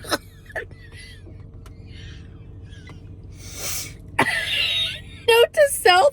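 Someone coughs and splutters after snorting sparkling water, a burst of harsh coughs and throat clearing near the end, following quieter rustling and a brief voice.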